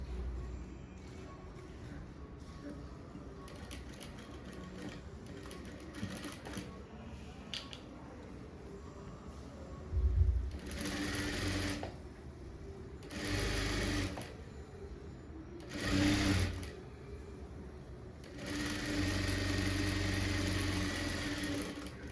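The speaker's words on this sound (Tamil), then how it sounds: "இப்போ அடுத்த பட்டி தைச்சி எடுத்து விடுவோம்" A sewing machine runs in several short bursts of stitching while a blouse patti is sewn in a tailoring class, with a steady motor whir, pauses between runs and a longer final run.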